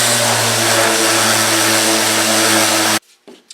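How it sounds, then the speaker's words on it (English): Power sander with 80-grit paper flattening a glued-up scrap-wood cutting board: a steady, loud whirring hum with a tonal drone, running alone for about three seconds before it cuts off, leaving a few faint knocks. "we can go ahead and take some 80 grit to this just to kind of flatten this out."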